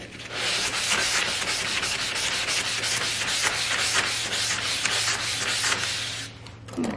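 Sandpaper and a sanding block rubbed over a wooden Christmas book-stack decoration, a steady, loud raspy scraping made of quick repeated back-and-forth strokes that runs nearly continuously, close up, with no talking.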